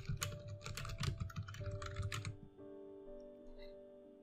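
Quick bursts of keystrokes on a computer keyboard, close and fairly quiet, tapering off after a couple of seconds into a faint hum.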